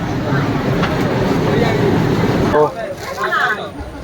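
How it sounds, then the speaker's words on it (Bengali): The Dhauli Express pulls into a packed station with a steady low rumble, under loud crowd chatter and voices, before the noise drops and a brief squeal rises near the end. "আমাদের ট্রেন ঢুকছে, এখন ট্রেন উঠবো।"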